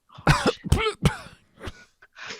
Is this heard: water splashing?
no